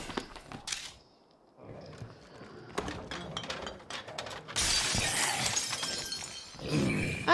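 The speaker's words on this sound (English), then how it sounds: "How dare you break my window!" Window glass shattering in the zombie survival game State of Decay 2, a bright crash followed by scattered breaking and clattering bursts, with a brief quiet stretch before a dense, loud run of shattering.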